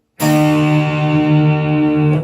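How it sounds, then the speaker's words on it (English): A single guitar strum down across four strings rings out loud and close, the chord sustaining evenly for about two seconds. "You can strum down all 4 strings"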